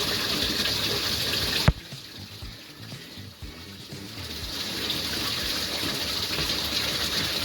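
PBW cleaning solution drains and gushes out of an upturned carboy through a funnel, a steady rushing pour that starts loud, dips after a sharp clunk, then swells again.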